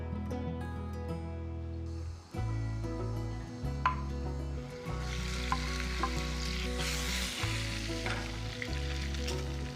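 Bite-sized salmon pieces pan-fry in a hot pan, giving a steady, close sizzle with a few scraping stirs partway through and no talking.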